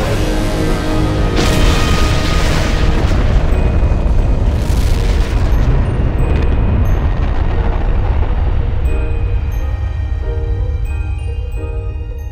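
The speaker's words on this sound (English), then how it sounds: "In certain systems where material is being pulled off one star onto the surface of another, massive nuclear detonations can occur" A massive nuclear detonation on the surface of a star, rendered as a cinematic effect: a deep, sustained roaring rumble with rolling booming surges, loud and continuous throughout, slowly easing toward the end.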